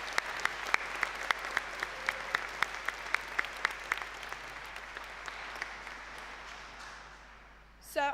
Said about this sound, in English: So can we all have a round of applause for everyone?